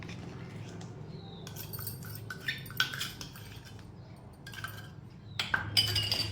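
Custard powder being stirred into hot milk in a pot on the stove, with a spoon giving faint, sparse clinks and scrapes against the pot over a low kitchen hum.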